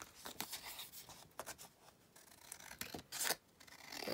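Scissors trim down a folded paper folio in a series of close, quiet snipping cuts with soft paper rustling between them, irregular in rhythm and with no talking.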